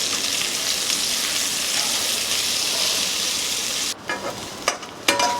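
Eggplant pieces with salt and turmeric sizzle steadily in hot mustard oil in a pan, a dense continuous frying hiss that drops away near the end, leaving a few sharp scrapes and clatters of a spatula stirring.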